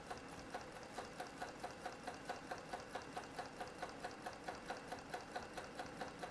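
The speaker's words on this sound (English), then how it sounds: "And then I'm going to sew out to the edge like this." Sewing machine quilting a Dresden quilt, running at a steady even pace with regular rhythmic stitching pulses, quiet and close, with no talking.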